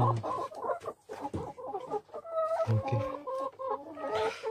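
Several backyard hens cluck and murmur close by in a rhythmic, overlapping chatter, with short low clucks and a few rising calls, fairly faint but continuous throughout.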